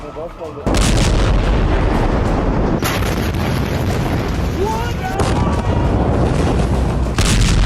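Loud, sustained explosion roar and rumble at the Beirut port blast, a heavy boom filling the clip with continuous blast noise and wind buffeting on the microphone, and a faint voice at the start.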